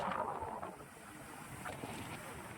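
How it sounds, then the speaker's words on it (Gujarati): Strong wind at the seaside in Diu buffets the microphone in a continuous low roar, with a faint watery wash of waves underneath. "પવન બહુ છે દીવમાં"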